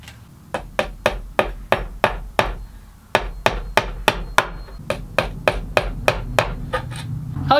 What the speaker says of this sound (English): I like to use a little tack hammer and a pair of needle nose pliers, the pliers to hold the little nail.